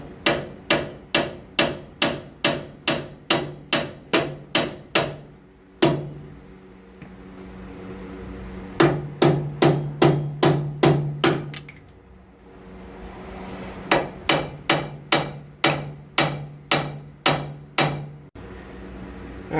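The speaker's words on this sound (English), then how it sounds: "I'm just going to give this a tap on the side and see if it'll come apart." A hammer strikes the side of a ball joint on the front suspension of a 2003 Saturn Vue in rapid, loud, close metallic blows, delivered in bursts of about a dozen with short pauses and a steady hum between.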